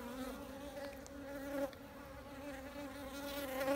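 Carniolan honey bees buzz at a beehive, a faint continuous hum with a few louder individual bees drifting close past.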